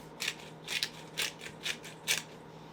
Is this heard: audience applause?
no